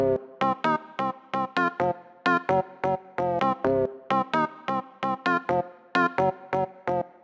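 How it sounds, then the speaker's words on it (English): A choppy organ sample from Breakbeat Paradise plays short staccato chord stabs in a steady, punchy house rhythm, bright and loud, with no voice over it. "sample from Breakbeat Paradise organs"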